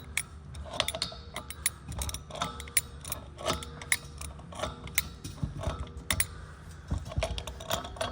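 Left-hand threaded fittings being tightened by hand on a Scamp camper, giving quiet, irregular metallic clicks and ratcheting ticks with small knocks and handling noise, close to the microphone and without speech.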